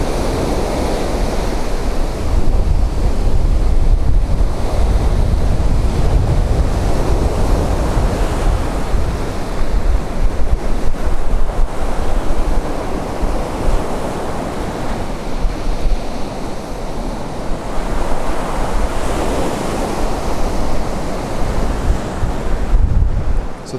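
Sea waves at high tide along Filey seafront on a cloudy day, a continuous loud wash of surf mixed with heavy wind buffeting on the microphone, rising and falling in broad surges over the whole stretch.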